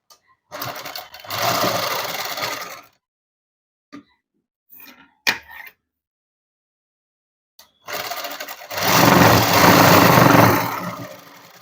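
A sewing machine stitches through fabric in two sustained runs, a short one followed by a longer, louder one, with a few faint clicks and taps in the quiet gap between them.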